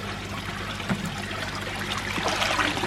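Free-flowing water in a koi pond, a close, continuous trickle and splash with small bubbling bursts, steady and moderately loud throughout.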